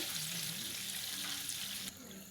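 A small amount of filtered water poured into a hot pan of vegetarian fried chicken drumsticks in fish sauce, sizzling and bubbling softly, then dropping quieter near the end.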